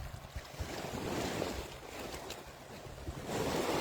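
Boat motors and aerators switched on during carp stocking at a fishpond, giving a steady broadband churning and water wash that swells louder near the end, with wind noise and no talk.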